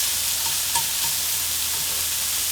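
Seasoned meat stir-fries in an oiled frying pan that has just cooked onions, for glass noodle japchae: a steady close sizzle with a few soft stirring taps.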